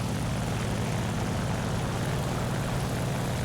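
Steady, loud drone of the Ki-94-II propeller plane's engine in the War Thunder flight game, a continuous airscrew roar with no change in pitch throughout.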